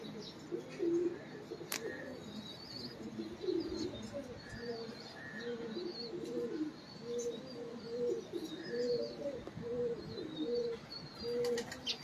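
Pigeons coo steadily in a loft where a prized number-8 bird is being shown, with repeated soft, throaty calls at moderate distance, occasional chirps and brief wing flaps, and faint background voices.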